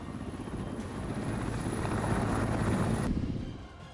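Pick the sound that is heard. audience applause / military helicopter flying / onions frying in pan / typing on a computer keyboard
military helicopter flying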